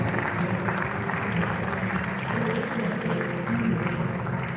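At an award night for the NLNG Prize for Literature and Science, a large audience claps without pause as a traditional king walks up to the stage, a dense, even roar of applause with a low hum beneath it.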